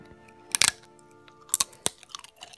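Tostitos Original restaurant-style corn chips crunch loudly up close, with a few sharp bites and chews in quick clusters separated by short quiet gaps, and no talking.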